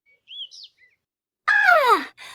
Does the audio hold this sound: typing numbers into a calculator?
no